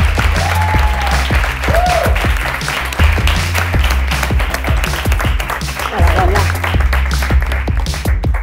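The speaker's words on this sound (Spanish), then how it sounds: "Un aplauso muy grande para Paula Blas" Enthusiastic audience applause for a guest at a live talk show, sharp claps rattling steadily for several seconds over a low musical backing.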